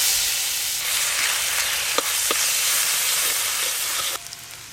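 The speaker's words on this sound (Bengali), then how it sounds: "কড়াতে একটু সর্ষের তেল দিয়ে দেব। গোটা গরম মশলা, শুকনো লঙ্কা ফোড়ন করে নেব।" Whole garam masala spices and dried red chillies sizzle in hot mustard oil in a kadai. The frying hiss is loud and steady, with a couple of faint pops, and it cuts off abruptly near the end.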